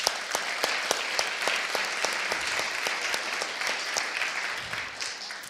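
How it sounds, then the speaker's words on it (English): Steady applause from an audience at a conference on drug consumption rooms: dense, continuous clapping with a few sharper individual claps standing out, sustained at an even level throughout without any speech. "if you wouldn't mind joining me in a round of applause"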